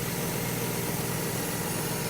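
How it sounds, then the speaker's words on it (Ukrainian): A John Deere 6175R tractor engine running after warranty repair with a stainless steel exhaust, a steady, even rumble held at constant volume close by, with no voices. "Чітко, працює двигун добре."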